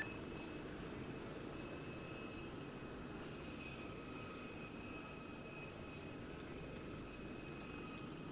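Helicopter in a video game descending for an emergency landing: a continuous steady engine and rotor drone with a faint high whine, even in loudness throughout, no speech.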